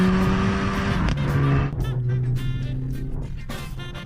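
MG6 Pro sport sedan with a valve-controlled exhaust floored to about 5,000 RPM, a loud, close engine drone rising in pitch, then a quick drop as the gearbox shifts and the note climbs again.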